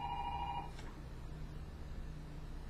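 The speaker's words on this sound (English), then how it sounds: "that's just the home phone" A home telephone rings with a short electronic trill that stops after less than a second, followed by a quiet room hum.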